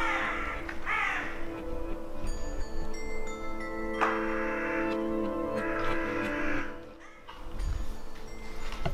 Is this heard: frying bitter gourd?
no